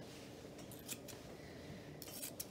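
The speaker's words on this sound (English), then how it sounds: "So these thinning scissors, what they're doing is they don't take all the hair. They're only trimming some hairs." Thinning scissors trim an English Springer Spaniel's coat during show grooming, with several light, crisp snips in two small clusters over a quiet room background.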